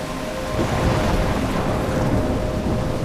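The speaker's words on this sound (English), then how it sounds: "I'm trapped in a storm?" Thunderstorm in the video game Life is Strange: loud, steady rush of heavy rain and wind with low rumbling thunder swelling underneath, no speech.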